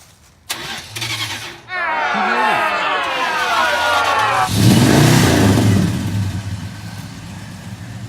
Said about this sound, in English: hold the gas down, and then start it, and then let go of the gas